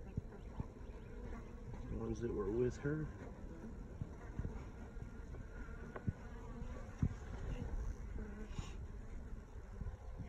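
Honeybees drone in a continuous buzzing swarm close by at a hive, while a person speaks briefly over the hum.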